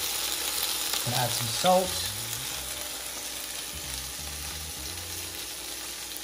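Pork tied with string sears in olive oil in a pan, a constant close sizzle running under a man's brief spoken remark about seasoning.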